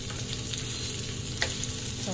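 Onion and garlic sizzle steadily in a pan for Ilocano igado while being stirred, a dense, even frying hiss with a faint clink of a utensil partway through and no voices.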